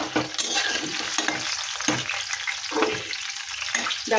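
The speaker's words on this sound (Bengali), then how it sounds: "মাছগুলো এইভাবে ভেজে নেব দেখো" Pieces of fish frying in oil in a pan make a close, crackling sizzle broken by repeated rhythmic stirring and turning scrapes.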